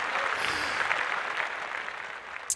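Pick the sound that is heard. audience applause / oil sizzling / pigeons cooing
audience applause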